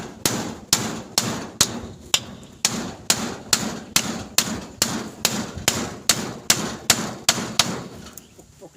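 A child pounds with a hammer, striking about sixteen sharp blows in a steady, evenly spaced rhythm, loud and close with no talking.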